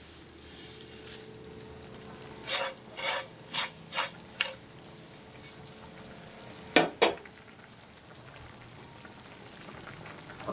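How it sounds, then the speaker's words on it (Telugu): Bombay rava (semolina) is stirred into boiling water in a pot for upma: a short series of quick, rhythmic scraping strokes, a pause, then two sharper scrapes over a steady low background hiss. "ఒకసారి బాగా కలుపుకోవచ్చు."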